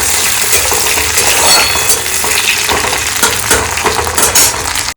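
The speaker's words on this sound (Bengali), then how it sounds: "এখানে সেম তেলে কাজু কিশমিশটা একটু ভেজে নিই হালকা হালকা করে" Cashews and raisins fry in oil in a pan, a loud, steady sizzle and crackle broken by occasional light scraping and clinks of a spoon stirring.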